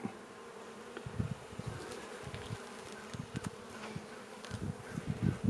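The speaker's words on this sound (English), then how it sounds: "Now we're getting into the bulk of the bees and we're in the middle of the box." Honey bees buzz steadily during a hive inspection of a weak colony, a dense close drone with louder swells as the frames are worked, alone without talk.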